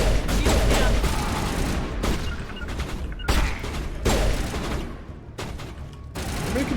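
Loud, dense gunfire in the Mass Effect video game, with sustained bursts of automatic weapon shots and impacts, broken by brief pauses, in a near and continuous combat mix.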